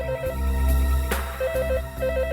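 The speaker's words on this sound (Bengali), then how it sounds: "স্যার ওখান থেকেও ফোনের আওয়াজ আসছে" A landline telephone rings nearby in a crime drama scene, a repeating electronic ring pattern in short bursts over a low background music score.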